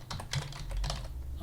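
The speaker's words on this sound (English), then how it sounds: "So if we just type in here" Quick clattering keystrokes on a computer keyboard, close and moderately quiet, a brief burst of typing with no talk.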